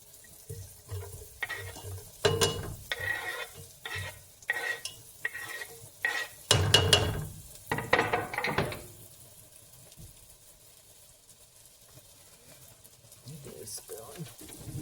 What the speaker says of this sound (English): Got the butter melted now. She's going to put the onion in.